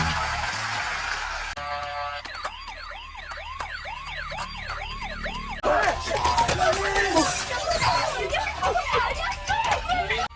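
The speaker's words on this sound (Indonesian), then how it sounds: "Letnan Lee memancing kedatangan para monster dengan menyalakan mobil mainan" A toy car is switched on in a film to lure monsters, giving off a loud warbling, siren-like wail that rises and falls repeatedly. Busy noise and commotion join it partway through.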